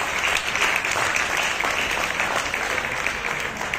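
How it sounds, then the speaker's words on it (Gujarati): Steady applause from an audience at a classical dhrupad music and dance concert, a continuous dense patter of many hands clapping at even loudness throughout, with no talk over it. "આપણે એકવાર ફરી તાળીઓથી વધાવીએ"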